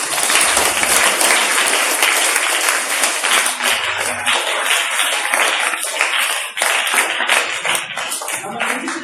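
A crowd of school children and guests breaks into sustained applause, many hands clapping loudly and densely for several seconds.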